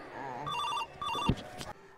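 A telephone rings with repeated bursts of electronic trilling, close and fairly loud, as voices talk over it and a thump lands midway.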